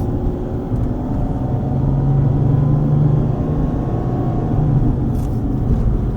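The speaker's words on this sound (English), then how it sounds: "Driving up, we're on Division Street right now." A car driving up Division Street through the steel town of Aliquippa, Pennsylvania, heard from inside as a loud steady engine and road rumble with a low hum throughout, no talk.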